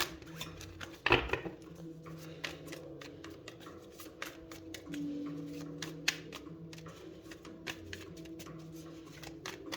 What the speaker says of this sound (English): let's first do a quick shuffle